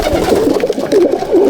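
Chotial Madrasi pigeons in a loft coo steadily, a loud, close, continuous warbling murmur of several birds with no voices.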